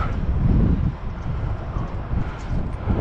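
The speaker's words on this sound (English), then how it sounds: "Very windy today, but warmer." Strong wind buffets the microphone outdoors on a windy, warmer day, a low rumbling gusty roar that rises and falls unevenly throughout.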